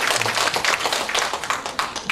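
An audience applauding at a charity donation event, dense steady clapping from many hands filling the moment, fairly close and loud.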